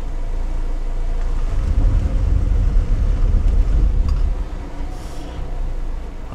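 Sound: Lada Niva 4x4 engine running, wheels spinning on rollers

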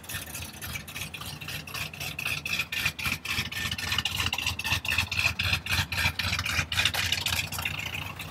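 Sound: 1974 Dodge Monaco engine idling

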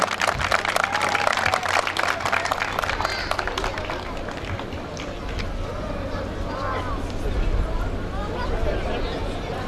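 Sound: audience applause for the mayor coming on stage

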